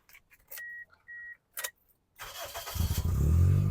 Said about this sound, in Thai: ฟังเสียงเครื่องยนต์นะครับผม